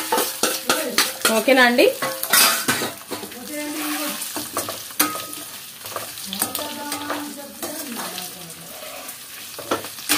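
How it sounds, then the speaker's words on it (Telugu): Chicken sizzling as it is dropped into hot oil and stirred in a pan for gongura chicken pickle, with spoon scrapes and clinks over steady frying; someone speaks briefly. "ఇప్పుడు మనం దీంట్లోకి మనం ముందే వేసి పెట్టుకున్న చికెన్ వేసేసుకుందామండి."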